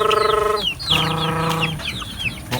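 Chickens cluck loudly and close by in a rapid run of calls, with a short pause before the clucking resumes and trails off.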